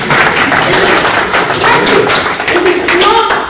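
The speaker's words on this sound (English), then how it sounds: "Clap for that. Please." Audience applause in a hall, a dense, loud wash of hand claps holding steady for several seconds with no one speaking over it.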